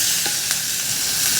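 Onions fry in hot oil with mustard seeds, cumin, asafoetida, turmeric and garlic, giving a loud, continuous hissing sizzle with a few faint pops.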